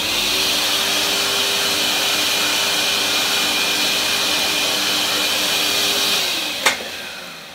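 A vacuum cleaner runs in a workshop under renovation, a steady close-up roar with a hum, then it winds down as a space heater and the vacuum together blow the fuses, ending in a sharp click.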